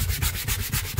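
A brush scrubs back and forth over a car seat in a Toyota Fortuner interior, quick rhythmic rasping strokes, close and loud, about five passes in a second.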